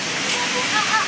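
The Sanghagara waterfall in Keonjhar, Odisha, roars as a steady, broad rush of falling water that fills the whole moment with constant noise.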